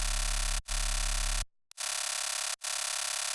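Crunchy, gritty synthesizer wavetable tone meant as a dubstep and tearout sub bass, played loud and dense with unfiltered harmonics, in sustained bursts cut by brief gaps and one longer pause.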